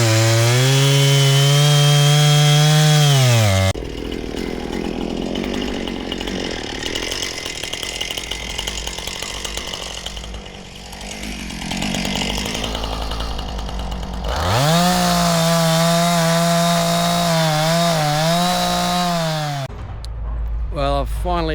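A chainsaw with a dinged, blunt blade trims trees while clearing land in a Tasmanian forest: a loud revving engine hum, then a long rough cutting roar, then the engine whining again near the end.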